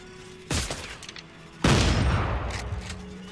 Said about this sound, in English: Now I'm gonna try out this weapon that I crafted. I wanna look at it. It's got shotgun primary, telemetry spike secondary. Alright, shoot it.